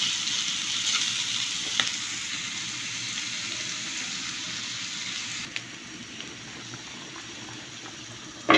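Hilsa fish frying with onion and green chilli in a pan, a close, steady hiss and sizzle with a few faint clicks of stirring.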